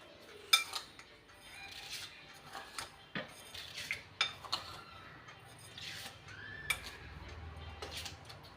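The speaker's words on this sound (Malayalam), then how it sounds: "ഇതിലേക്കാണ് നമ്മുടെ പഞ്ചസാര ഇടുന്നത്." Sugar is spooned into a vessel in a run of faint, sharp spoon-on-metal clinks and taps, irregular and close, in an otherwise quiet room.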